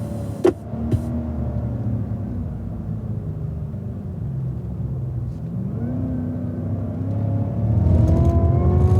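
A 2016 Cadillac CTS-V on track at Circuit of the Americas drones steadily from inside the cabin, engine pitch falling then climbing as it accelerates, growing louder toward the end after a couple of sharp knocks early on.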